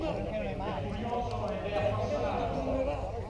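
Hooves clatter in a quick galloping rhythm during the Palio di Avigliana medieval horse race while a man announces loudly in Italian over them, with crowd noise in the background.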